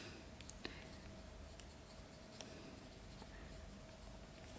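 A pen scratches faintly across paper in a Hobonichi Weeks notebook, soft continuous strokes with a few small taps, close and very quiet, with no one speaking.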